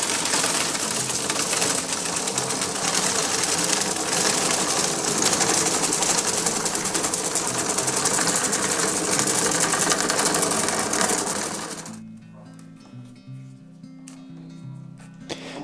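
A bamboo rod binder machine wraps thread around glued bamboo rod strips, giving a steady, loud mechanical whir and rattle that runs continuously, then cuts off near the end, leaving quieter scattered clicks.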